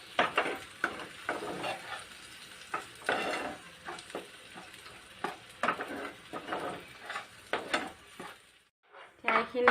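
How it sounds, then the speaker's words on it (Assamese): Paneer gravy masala being stirred and fried in a pan, with repeated scraping and stirring strokes over a steady sizzle, close and fairly loud, pausing briefly near the end. "ধুনীয়াকৈ মিক্স কৰি ভাজিম অকণমান মই"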